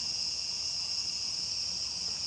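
Crickets and cicadas chirp in a steady, unbroken high-pitched drone, moderately faint, with no voices.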